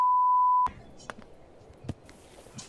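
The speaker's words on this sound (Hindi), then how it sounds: "मैं यहाँ पे फोन बजा रहा हूँ" A phone rings in Untitled Goose Game as one steady electronic tone that holds for under a second and then cuts off, leaving only faint clicks and quiet background.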